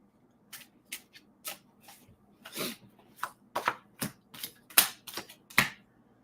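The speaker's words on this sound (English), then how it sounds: "So let's throw some cards down for that." Playing cards are tossed onto a surface and shuffled, making a series of sharp, close snaps and short riffles spaced irregularly over a few seconds in an otherwise quiet room, with no one speaking.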